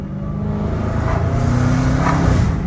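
A loud, deep Dodge Hellcat Redeye engine with mufflers deleted roars up close with a raspy, unmuffled rumble that builds steadily as it revs.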